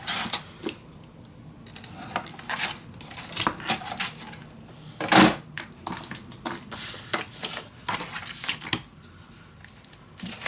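Paper being scored and cut for a handmade mini album: irregular close scraping strokes and scissor snips, with a couple of sharper louder cuts midway and no talking.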